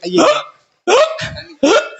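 A performer in a Tamil villu paattu storytelling show imitates hiccups with his voice: three loud, sharp, gulping hiccup sounds spaced evenly and close to the microphone.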